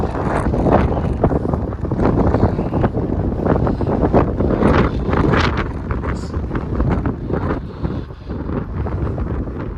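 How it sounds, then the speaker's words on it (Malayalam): Strong wind buffets outdoors behind a museum near the Kremlin in Moscow, a loud continuous roaring rumble of gusts battering the microphone throughout. "നല്ല കാറ്റുണ്ട് കേട്ടോ."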